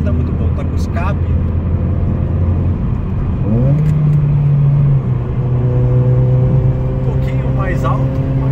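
A Ford Focus with an aftermarket exhaust drives along a road, its engine droning steadily and rising in pitch as it accelerates and shifts, with a person talking over it throughout.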